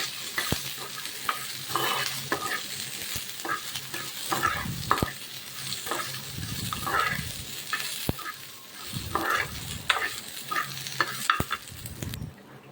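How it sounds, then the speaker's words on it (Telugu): Green chillies and onions frying in oil in a kadai for a cucumber chutney, producing a continuous close sizzle with spatula stirring and scraping, occasional sharp clicks against the pan, and no talk. "ఇవైతే నూనెలో బాగా ఫ్రై అవ్వాలి"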